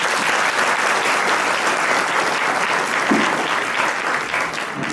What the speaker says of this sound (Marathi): तुमच्यासाठी एकदा टाळ्या वाजवा.